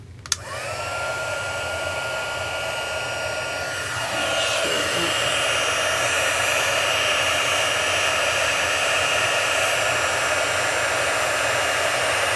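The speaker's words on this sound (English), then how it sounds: "Takes a little while for the heat gun to heat up to really start doing." A heat gun blows steadily while embossing a Stampin' Up! birthday card. A click switches it on, then a loud, hissing, hair-dryer-like roar follows, and the airflow swells slightly louder partway through and holds constant.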